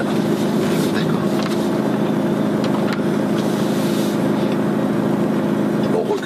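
A car drives on a wet-road test track, a steady loud engine drone and tire hiss carrying through the whole stretch, with someone talking over it.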